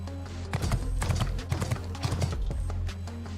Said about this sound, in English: Horse noises.